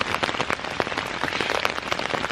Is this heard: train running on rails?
no